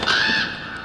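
Crows caw in the horror video game Until Dawn, giving one close, harsh, drawn-out call that trails off within a second, with no other sounds around it.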